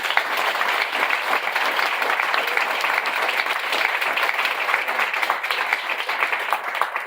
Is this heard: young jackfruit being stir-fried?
no